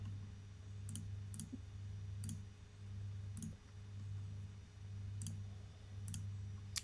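Computer mouse clicks during software work at a desk: about eight sharp, light single clicks spaced irregularly over a few seconds against a quiet, steady background hum.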